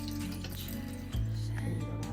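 Water runs steadily from a tap into a container, a continuous close splashing stream that grows fuller and louder partway through.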